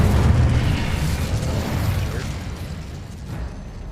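A fiery whoosh and crackling burst from the Incendio fire spell in a wizarding video game, a loud low rumble that swells at the start and slowly fades over a few seconds.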